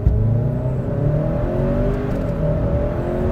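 A 2022 Hyundai Santa Cruz pickup carrying some cargo pulls away from a stop, its engine droning steadily louder with rising tones as it shifts through gears, close and continuous with no talk.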